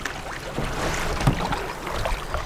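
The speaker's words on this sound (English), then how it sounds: "I'm literally surfing like 4-foot swells." A kayak rides big four-foot ocean swells in high wind, with water sloshing and splashing against the hull in uneven bursts over gusty wind noise on the microphone.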